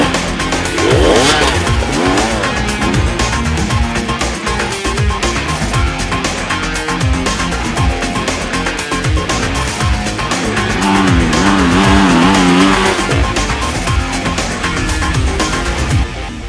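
Husqvarna 2022 two-stroke enduro motorcycle ridden hard, engine revving and rising and falling in pitch continuously, loud and close throughout with no talk.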